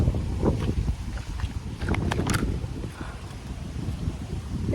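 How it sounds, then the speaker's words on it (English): Strong gusty wind roars and buffets the microphone during a tornado warning in Middlesex, Massachusetts, with loud irregular rumbling gusts and a few brief higher rustles or whistles. "There's a tornado."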